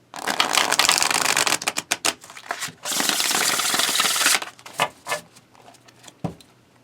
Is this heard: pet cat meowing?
no